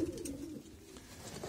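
Pigeons coo softly in a breeding loft, a low, faint murmur heard up close without any talk.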